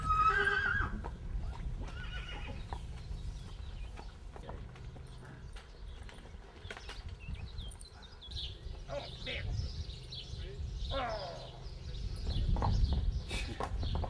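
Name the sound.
draft horses neighing and hooves, Belgian Ardennes forest logging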